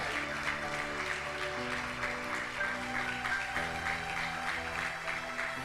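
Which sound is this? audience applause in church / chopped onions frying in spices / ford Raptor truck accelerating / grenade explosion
audience applause in church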